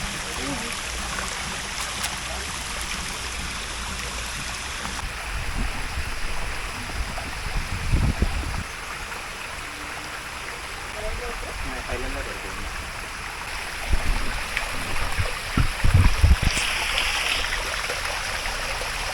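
Steady rushing of a flowing stream in forested hills fills the scene, with occasional splashes and faint voices in the background.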